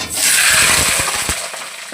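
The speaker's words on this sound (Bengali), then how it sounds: "প্রথমে মাংসের আলুগুলোকে ভেজে নেব।" Potatoes fry in hot mustard oil in a wok with a loud hissing sizzle and intermittent scraping stir knocks, close up, easing slightly toward the end with no voices.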